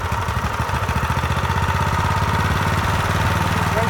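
A gas lawn mower engine runs just after starting, close by, with a rapid, steady putter of regular pulses and a light rattle, firing evenly and without pause.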